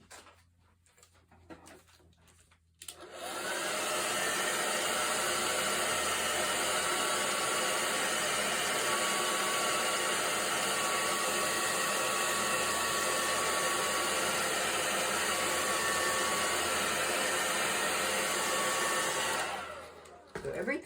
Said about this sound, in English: And I'll blow dry that.